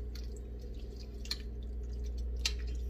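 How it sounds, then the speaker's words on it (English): A tomato and butter mixture being stirred in a pot, heard as faint, soft wet squishes and drips, with a couple of slightly sharper splats over a steady low hum. "And now I'm just stirring it together."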